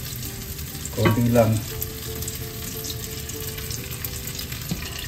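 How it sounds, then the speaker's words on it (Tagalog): An egg frying in oil for tortang talong (eggplant omelette): a loud sizzling burst early, then a continuous crackling fry, with a brief spoken word over it. "At habang napiprito po ang itlog, medyo i-cover po natin."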